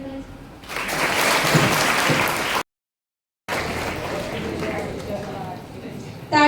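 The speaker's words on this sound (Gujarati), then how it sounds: "તાળીઓના ગડગડાટ" A crowd at a school gathering breaks into loud applause, a dense roaring clatter that cuts out abruptly and then resumes at steady strength.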